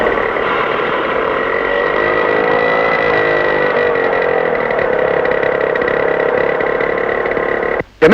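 A scooter engine runs close by at a steady, loud idle with a constant droning tone, cutting out abruptly for a moment near the end.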